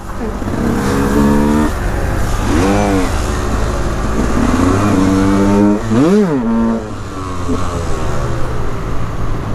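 A motorcycle engine revs hard at full throttle on a motovlog ride, loud and close, with repeated rising and falling sweeps of pitch as the rider works through gears and a big climbing surge near the end.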